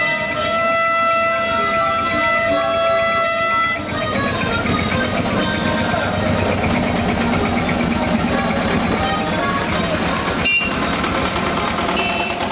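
A vintage tractor, received in 2005 in a fully dilapidated state and since restored, runs steadily and loudly up close, its engine drone continuous with a brief sharp click near the end.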